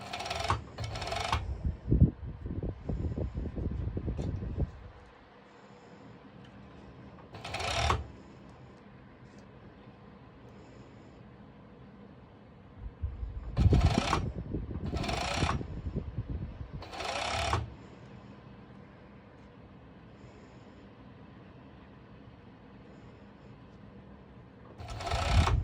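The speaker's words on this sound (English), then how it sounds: "Now I go to my serger. Like I said, you don't need to add elastic. You are just simply serging it" A serger overlock machine stitches swimsuit fabric for a trikini in several short, loud, fast-running bursts, separated by quieter gaps with light handling rustle.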